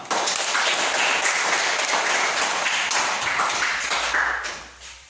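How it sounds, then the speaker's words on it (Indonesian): An elementary school class claps together in a classroom, a busy, close patter of many small hands that holds steady for several seconds and then fades away. "Tepuk tangan untuk kita semua."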